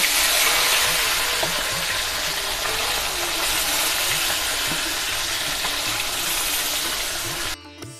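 Bele fish fries in hot oil in a pan, a steady dense sizzle with small pops and bubbling that carries on evenly until it cuts off abruptly near the end.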